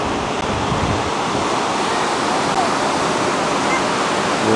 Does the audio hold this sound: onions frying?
no